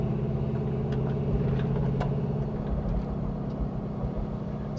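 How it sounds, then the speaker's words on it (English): A 1984 Chevrolet Blazer K5 restomod with an LS engine idles through its mufflers, a steady, deep, close rumble that holds constant for the whole stretch with a faint sharp click or two on top. "Sounding great, those mufflers."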